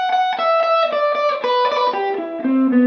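A descending melodic guitar line, note after note picked at a steady pace, clean and sustained with a light effect, no talking.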